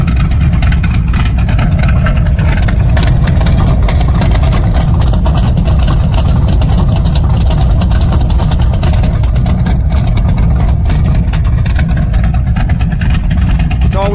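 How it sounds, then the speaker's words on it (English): Loud, continuous muscle car exhaust roar with the cutouts open, dense low rumble holding steady for the whole stretch with no talk over it. "And that's your sound with the exhaust cutouts."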